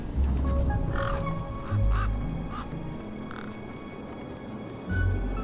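A large bird in the game Beyond a Steel Sky gives several honking, quacking calls over a steady low rumble and hum of machinery, with some calls spaced about a second apart and no voices.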